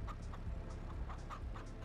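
Chickens cluck softly and rhythmically in a farm yard in the Farming Simulator 22 game, a faint, repeated string of short clucks over a low background hum.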